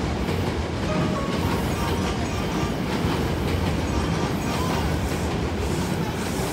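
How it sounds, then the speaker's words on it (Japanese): A retired Hankyu Railway Kyoto-train set 6354F, running as a limited express to Kyoto-Kawaramachi, pulls into Awaji station with a loud, close, steady rumble and rhythmic clickety-clack of wheels on rail throughout. "ただいま到着の電車は快速特急 A 京都河原町行きです。"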